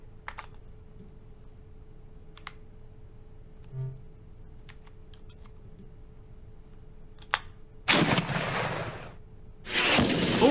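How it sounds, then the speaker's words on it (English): Tank cannon fire in a tank simulator game: sparse clicks and a faint low thump early on, then two loud broadband blasts near the end, the second rumbling on as the clip cuts off. "we might as well fire at the target despite the extremely unlikely chance that we get a hit"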